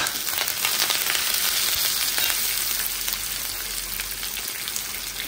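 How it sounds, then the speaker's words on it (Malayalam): Mustard seeds, urad dal and curry leaves frying in hot oil, a steady close crackling sizzle with scattered pops running throughout, no talking. "ആദ്യം നമ്മൾ കുറച്ച് കടുക് ചേർത്തിട്ടുണ്ട്. നമ്മൾ ഉഴുന്നൂരിപ്പ് ചേർക്കുന്നുണ്ട്. നമ്മൾ കറിവേപ്പിലയും ചേർക്കണം."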